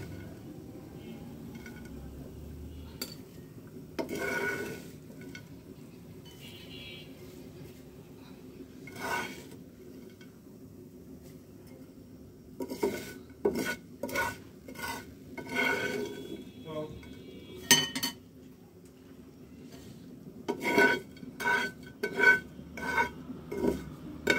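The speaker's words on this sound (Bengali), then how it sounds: "আমি একটা বাটিতে মাছগুলো উঠিয়ে নেব" Fried fish is lifted from the pan into a bowl, with sharp metal and crockery clinks that come sparse at first and then in quick clusters, close and fairly quiet against a silent background.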